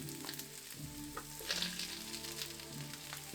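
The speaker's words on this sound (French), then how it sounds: "On commence par ajouter la matière grasse. On ajoute les oignons, les échalotes," Fat, onions and shallots fry in a pan with a faint, continuous sizzle and crackle, heard close but quiet with an occasional stir.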